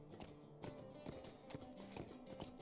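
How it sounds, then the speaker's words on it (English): Horse hooves clip-clopping at a slow riding pace in the online game Lord of the Rings Online, a steady, evenly spaced rhythm of faint thuds over soft background sound. "I've got to ride my horse slow now."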